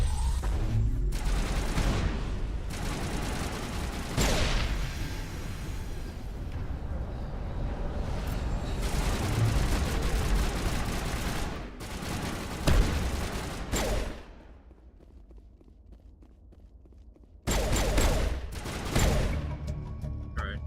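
Gunfire rattles through a firefight in the Mass Effect video game, dense overlapping shots and blasts for most of the stretch, a brief lull near the middle, then another loud burst of fire.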